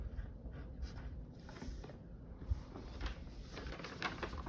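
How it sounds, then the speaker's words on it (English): Pen or pencil writing a word by hand on paper, a quiet continuous scratching with small strokes and taps, close and faint, no voices. "I'm actually gonna finish writing that word, beginning."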